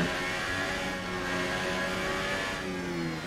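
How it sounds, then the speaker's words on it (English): Formula 1 race car engine in an F1 video game at the Canadian Grand Prix, a steady high whine with rising and falling harmonics as the driver lifts off the throttle through a turn, loud and continuous with no talk. "You can hear me now lifting off the throttle in that turn."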